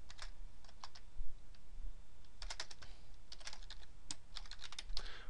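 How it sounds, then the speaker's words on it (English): Typing on a computer keyboard in a spreadsheet, with close, quiet key clicks in short bursts and pauses, a quick flurry near the middle and more toward the end. "I'm going to click here and type up here"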